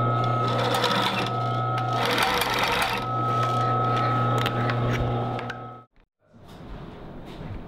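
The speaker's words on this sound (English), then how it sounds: "Alright, so we've machined up our seams, our straight seams and darts" Sewing machine running steadily as it stitches straight seams and darts on a tailored coat back, a continuous close mechanical whir that cuts out briefly near the end, then a softer handling rustle.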